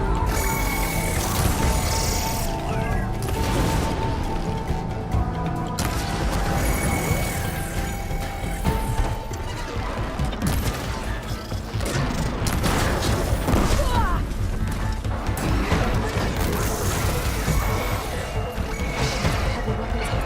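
Robot machines attacking in Horizon Forbidden West: a dense, loud barrage of mechanical clanks, crashes, booms and ratcheting impacts layered continuously, with voices speaking amid the combat.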